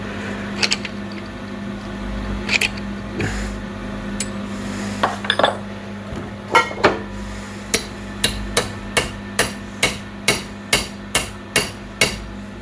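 Metal hammering on a seized brake part of a Honda TRX350D ATV rings out, a few scattered blows at first, then a steady run of sharp, evenly spaced strikes with a clanging ring and a low hum underneath.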